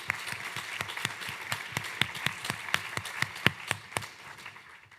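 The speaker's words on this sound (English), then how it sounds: "Can we give them another round of applause, please?" A small audience at a university Do Good Challenge showcase gives another round of applause, with faint, evenly paced individual claps that continue steadily and taper off at the end.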